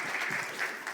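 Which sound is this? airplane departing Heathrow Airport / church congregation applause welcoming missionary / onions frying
church congregation applause welcoming missionary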